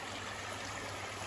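A creek on a wooded livestock paddock flows steadily, a soft, even wash of running water heard alone at low level with no break.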